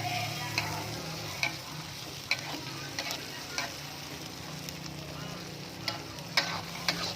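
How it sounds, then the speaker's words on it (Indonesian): Pakasam meat gulai with kepayang leaves is stirred in a sizzling pan, a steady frying hiss broken by irregular scrapes and clicks of the spoon against the pan. "Oke, kita aduk sampai rata."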